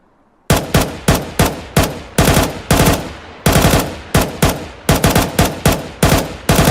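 Galil AR assault rifle gunfire in the game CS2: loud, close bursts of rapid automatic shots, several strings of fire separated by brief gaps, with no voices.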